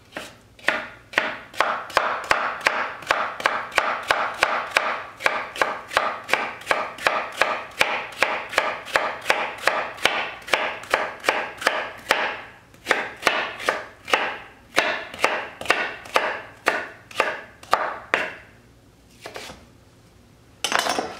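A knife chops vegetables into matchsticks for kimchi on a cutting board, a long run of fast, even, crisp taps close by that slows near the end with a brief pause.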